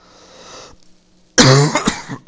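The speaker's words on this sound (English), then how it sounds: "Sorry for the cough." A single loud, close cough from a person with a cold bursts out after a quiet stretch, followed by a rough throaty rasp.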